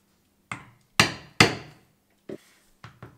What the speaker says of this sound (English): I'm punching onto a piece of rubber, so it's a very dense, hard rubber.